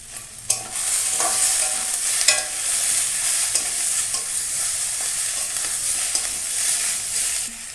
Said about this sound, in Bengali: এই দেখো কচুমুখিটা ভাজা হয়ে গেছে ভালো করে ভাজা হয়ে গেছে